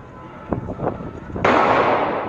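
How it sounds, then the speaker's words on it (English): Gunfire on the streets of Paris in news footage: two sharp, close cracks in quick succession, then a loud, sustained burst of rushing noise that fills the rest of the moment. "gunfire ringing out"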